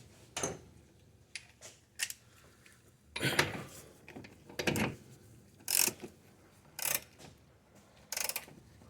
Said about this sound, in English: I can't put impact gun here. I'm gonna use the ratchet.